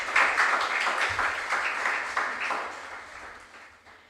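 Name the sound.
audience applause for quiz contestants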